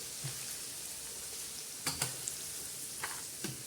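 Garlic fries in hot oil while being stirred, with a steady close sizzle and a few scraping stirs and clinks of a spoon breaking through.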